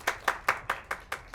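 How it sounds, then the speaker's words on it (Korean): Seven brisk, evenly spaced hand claps ring out at an academic conference session, close and distinct, with no voices over them. "종합 녹취를 해주신 세 분께 한 번 더 마지막 박수 부탁드리겠습니다"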